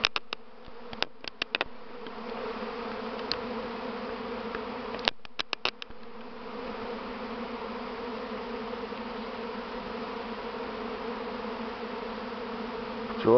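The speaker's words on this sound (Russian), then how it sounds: "послушаем гул раевых пчел" A swarming honeybee colony fills the air with a continuous, even, buzzing hum, with occasional sharp clicks and taps over the steady drone.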